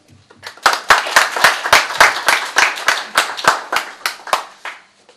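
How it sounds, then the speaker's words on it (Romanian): Several people clap at an art exhibition opening, sharp and fairly close, starting abruptly and settling into a brisk, slightly uneven rhythm of distinct claps before tapering off. "iar eu vă aplaud pe dumneavoastră"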